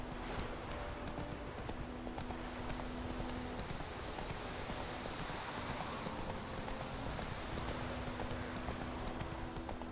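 Horse hooves galloping in The Witcher 3 video game, a fast steady clip-clop rhythm running continuously, quiet and even, with no talking.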